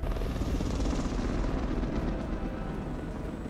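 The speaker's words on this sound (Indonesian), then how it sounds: "Mereka menggunakan beberapa helikopter untuk mengangkat Kong." Several helicopters lifting Kong in the film Godzilla vs Kong, a loud, dense, continuous rotor roar with a deep rumbling low end, without speech.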